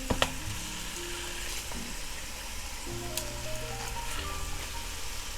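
Pork chops browning in a frying pan give a steady, close sizzle and crackle that runs throughout, with faint tonal hums and a few sharp pops near the start.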